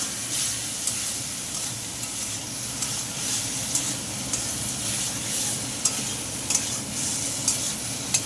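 Spices with green chilli paste for a pea and chickpea ghugni sizzle steadily in a pan as water goes in, a continuous close frying hiss with faint stirring scrapes, no talk.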